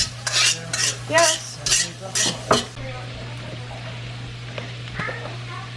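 Vegetables with corn are stirred in a pan with a utensil, several clattering scrapes in quick succession, then a softer sizzling hum once the stirring stops, with a brief word spoken.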